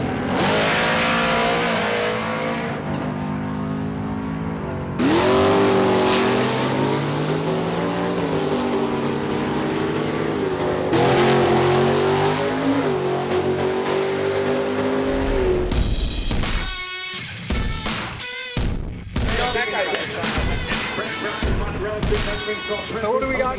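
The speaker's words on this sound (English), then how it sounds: "Racers set their rides on kill to test the limits of the track." Drag racing cars accelerate hard at Atco Dragway, with loud, rising engine revs in long pulls, then a choppy stretch of sharp bursts and quick throttle blips near the end.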